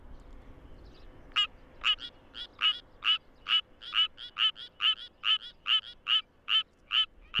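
Suwon treefrog calling with an inflated vocal sac in the middle of a rice paddy, a steady run of about fifteen sharp, evenly spaced rasping notes, close and clear over a quiet background.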